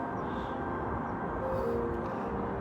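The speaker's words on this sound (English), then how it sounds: "That is the sound of the M25." Steady distant traffic roar from the M25 motorway, heard from a hiking trail on the North Downs Way near Ranmore Common, a continuous broadband rumble with no breaks and no talking.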